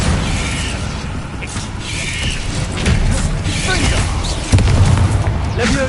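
A Bombarda blasting spell going off in the Hogwarts Legacy video game, with a deep, heavy boom bursting out near the end over a busy rumble of mechanical clanking and creaking.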